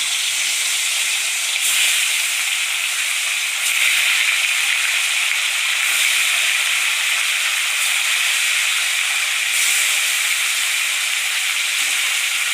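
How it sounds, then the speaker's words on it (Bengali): Khoshola fish frying in hot oil, a loud, steady, close sizzle that holds unbroken throughout with no voices. "মাছ কটা দিয়ে দিচ্ছি, ভেজে নিচ্ছি।"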